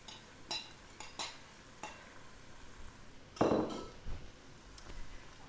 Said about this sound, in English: Then our minced beef is gonna go in again.